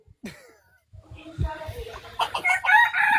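Chickens at a rural coop cluck and squawk in short, rough bursts that build toward the end, with brief voices and throat sounds mixed in among the birds.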